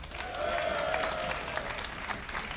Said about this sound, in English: give a cheer for AdelScott